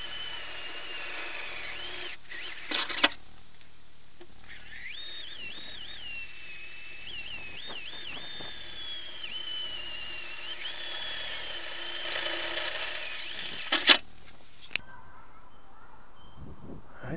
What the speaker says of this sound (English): So that's all 4 holes drilled in the corner, so I can get the jigsaw in.